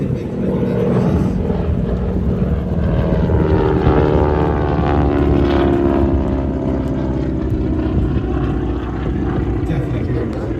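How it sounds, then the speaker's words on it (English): A propeller airplane passes at an air show with a loud, rasping buzz from its propeller tips that swells and slowly shifts in pitch, steady and close throughout. "you will hear this rasping sound coming from the harbour. It's the tip of the propeller"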